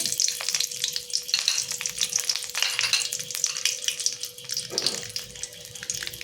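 Bay leaves and five-spice seeds sizzle and crackle steadily in hot oil in a home kitchen, a continuous bright frying hiss with small pops and one brief stir near the end.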